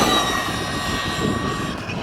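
A Team Corally Radix 6 RC car's electric motor runs with a loud, sustained high-pitched whine of layered tones, holding fairly steady and easing slightly toward the end.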